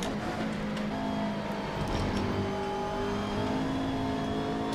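A Blancpain GT race car in Assetto Corsa drones steadily at high revs, heard from close by with a continuous engine whine and no clear pause or gear change.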